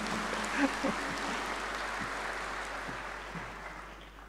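University graduation attendees applaud in a large hall, a broad, moderately loud wash of clapping that stays steady and slowly fades, with a few brief voices mixed in.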